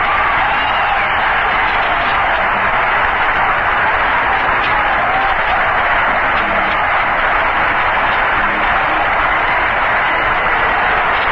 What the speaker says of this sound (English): They're standing and cheering and roaring for Rusty Staub.